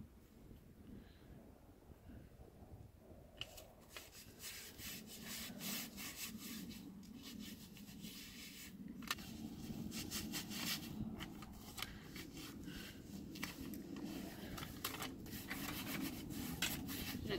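Vigorous hand rubbing of a patch onto a torn RV motorhome cover, a steady continuous scrubbing and brushing that picks up after a few seconds and keeps on loud and close, with no talk.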